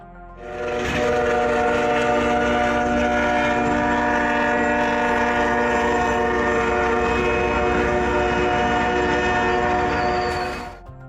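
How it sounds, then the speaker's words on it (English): A fast train roars past at close range, a steady, loud rush that holds for about ten seconds with horn-like tonal layers on top, then drops off sharply at the end. "This train moves so fast that it rushes past you in just 1 second."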